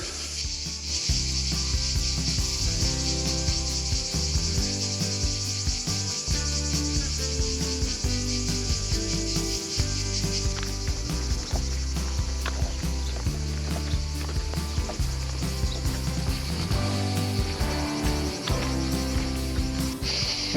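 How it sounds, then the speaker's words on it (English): Cicadas buzz in hot summer weather in a steady, continuous high drone that never lets up, accompanied by faint rubbing and scraping sounds close by. "That background noise of cicadas, that's what I associate with hot countries in the summer."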